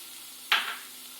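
Garlic and spinach are stirred in a hot pan: one short, close scrape-and-sizzle swish that fades quickly over quiet kitchen background.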